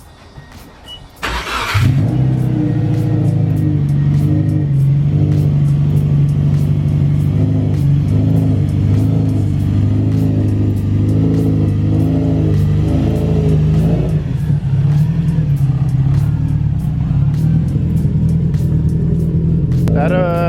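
A Subaru Forester XT with a manual gearbox accelerating hard, its engine rumbling and revving up through the gears with brief dips at each shift, loud and close from inside the car.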